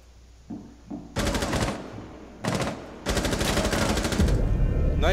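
Rapid automatic gunfire in Rainbow Six Siege, a house map team deathmatch, bursts in three loud sustained strings separated by brief pauses, with a couple of single shots at the start and no voices.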